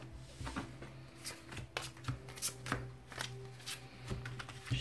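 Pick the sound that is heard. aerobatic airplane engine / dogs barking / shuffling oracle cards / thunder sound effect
shuffling oracle cards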